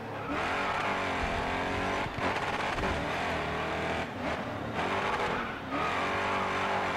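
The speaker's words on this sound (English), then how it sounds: "If you keep hearing the motor just constantly changing its idle and everything" Car motor in a VR racing game, revving up and down continuously as the engine pitch keeps shifting, loud and sustained with brief dips and tire-like squeals.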